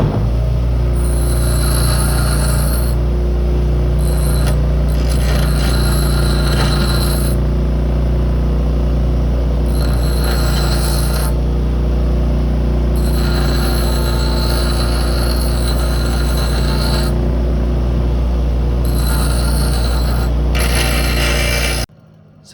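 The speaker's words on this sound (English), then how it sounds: "So it gets really hot when you're grinding it" A grinder roughly shaping a copper putter face: a loud, continuous harsh whine and roar that rises and eases as the metal is pressed on and off, close up, cutting out abruptly at the end.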